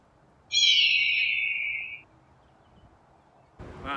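A loud, close bird call that may come from an owl, a single drawn-out whistled note lasting about a second and a half, followed by quiet and then a brief burst of another sound at the end.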